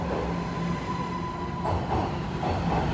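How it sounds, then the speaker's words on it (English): A Toronto subway train arrives at College Station with a loud, sustained rumble and rail hum, a faint whine and rhythmic wheel clatter rolling through the platform. "That's the subway train."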